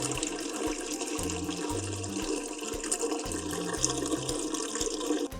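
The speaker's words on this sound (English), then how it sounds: "the water goes up and it comes back down" Water flows and splashes continuously at a steady level through a home-built hydroponic tower, a trickling, gurgling stream running without pause and no voices.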